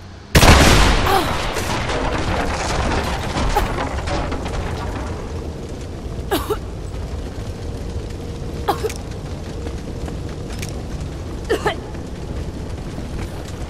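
Vessels of Greek fire blow up in Rise of the Tomb Raider, a sudden loud blast followed by a long roaring burn, with a few sharp cracks and pops punctuating the steady fire later on.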